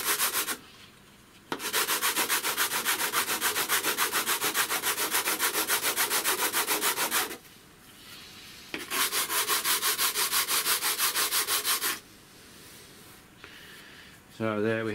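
A hand file rasps back and forth across FR4 G10 laminate sheet in long, loud, even strokes, with two extended bursts separated by short pauses and light handling sounds.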